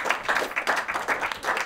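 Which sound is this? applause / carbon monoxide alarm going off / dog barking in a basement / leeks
applause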